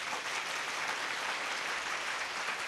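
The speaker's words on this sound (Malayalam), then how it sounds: "കൈയടിച്ച് ഈശോയെ മഹത്വപ്പെടുത്താം" A convention crowd claps to praise Jesus, a loud, sustained wash of applause from many hands with no break across the short stretch.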